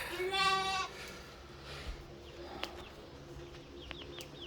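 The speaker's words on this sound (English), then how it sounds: "And then the sheep. The lambs are gotten big." A sheep or lamb on a small farm gives one short bleat, followed by a few faint animal calls and bird chirps over a steady outdoor background hum.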